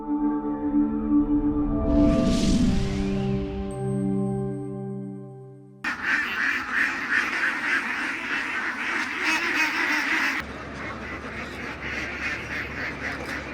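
Ducks on a farm where about a thousand birds are raised in confinement, heard as a dense, steady chorus of quacking from a large flock; an earlier tonal passage gives way to the constant crowd noise.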